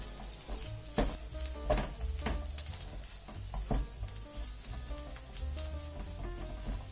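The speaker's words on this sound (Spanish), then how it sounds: "Cuando esté doradita, añadimos el pimentón ahumado. Lo cocinamos un poco," Smoked paprika sizzles in a frying pan with a soft, steady crackle while it is stirred. A few scraping knocks from the utensil rise above the quiet, close frying noise.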